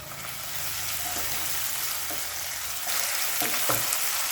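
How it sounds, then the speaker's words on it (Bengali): Tomato and green chili paste stir-fries in hot oil, a constant loud hiss with occasional spatula scrapes and a slight surge in sizzle partway through. "টমেটো আর কাঁচা লঙ্কাটা 30 থেকে 40 সেকেন্ড নাড়াচাড়া করে নিয়েছি।"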